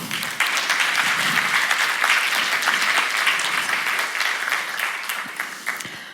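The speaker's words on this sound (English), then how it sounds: "So why don't we just give them a big round of applause at this point?" A crowd at a NATO Innovation Fund keynote event claps steadily and energetically for the event volunteers, a sustained, even wash of applause with no speech over it.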